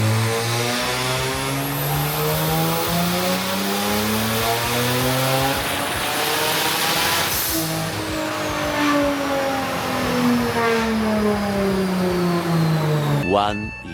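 Twin-turbo Genesis engine on a dyno, revving hard through rising and falling sweeps with a strong buzzing exhaust note and turbo whistle, loud and close, cutting off abruptly at the end.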